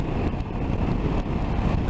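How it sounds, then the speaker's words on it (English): Strong headwind buffeting while riding a KTM 790 Adventure motorcycle on the highway, loud continuous wind roar with engine rumble underneath. "A strong headwind now."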